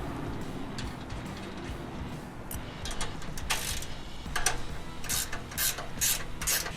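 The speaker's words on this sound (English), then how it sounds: "reinstall the factory nuts on the front bumper mounts and tighten them all the way down" A ratchet tightening factory nuts on the front bumper mounts of a third-generation Toyota Tacoma, with steady close clicking under low rumble and sharper bright bursts of ratcheting toward the end.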